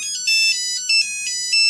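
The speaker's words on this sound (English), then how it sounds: "this is the classic Nokia ringtone" Classic Nokia ringtone from a 1994 Nokia Orange 2140 GSM1800 phone, a bright electronic melody of short beeping notes played in a quick repeating phrase, loud and close, with no talk.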